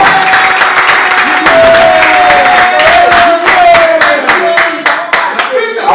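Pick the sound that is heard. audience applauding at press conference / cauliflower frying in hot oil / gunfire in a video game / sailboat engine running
audience applauding at press conference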